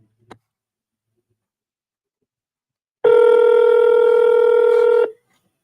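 A single short click, then after a pause a steady telephone ring tone on an outgoing call that holds for about two seconds and stops abruptly. No one talks.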